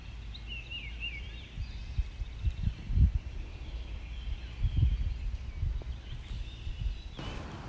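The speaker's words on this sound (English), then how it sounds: "Can you guys hear those birds?" Faint birds call from a backyard tree, which may include a hawk, with a few thin, wavering chirps early on. Low thumps and handling noises nearby sit beneath them.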